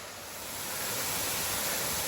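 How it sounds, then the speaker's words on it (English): Clifty Canyon waterfall roars as a broad, steady rush of falling water, growing slightly louder at first and then holding constant, with no voices. "Man, that is a beautiful waterfall."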